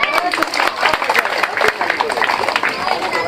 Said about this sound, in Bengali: কাকির জন্য সবাই একটা হাততালি দেন